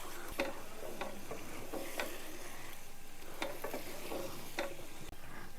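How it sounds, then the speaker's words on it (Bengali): Fried paneer with spinach and spices being stirred in a pan for palak paneer: a steady low sizzle with repeated scraping taps of the spoon at an uneven rhythm, close by with no talking. "এবার আমি ভেজে রাখা পনিরগুলো দিয়ে দেবো দিয়ে ভালোভাবে পনির দিয়ে মশলা দিয়ে ভালোভাবে নাড়িয়ে নেব"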